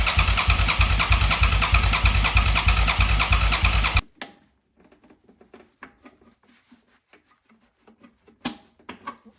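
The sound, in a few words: Suzuki SV650 motorcycle engine starting and running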